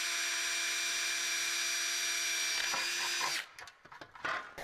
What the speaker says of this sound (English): So let's drill a couple holes here.